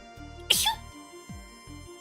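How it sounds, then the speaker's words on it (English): A person sneezes once sharply and close, followed by smaller sneeze-like bursts, over steady background music from a bartending game. "I'm sneezing a lot today."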